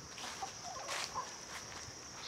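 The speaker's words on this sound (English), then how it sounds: "That's what she does when she calls Pigeon." A hen gives a few faint, short clucking calls, quiet and somewhat distant over a steady background hiss.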